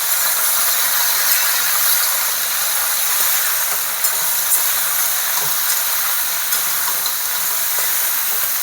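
Pointed gourd and potato fry with salt and turmeric in a pan over low heat, giving a steady bright sizzle with faint crackles and no talking.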